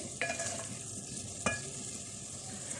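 Potato and capsicum sabzi stirred and fried in a pan: a steady sizzle with two sharp spatula scrapes against the pan, close and clear, with no talking.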